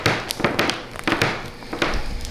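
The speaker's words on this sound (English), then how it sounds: "we're basically going to hammer any nail heads down further than the wood surface, at least flush" Nail heads being hammered down into wooden subfloor boards, flush with the surface, while carpet is replaced with vinyl plank: a series of sharp, close taps and thuds at an uneven pace.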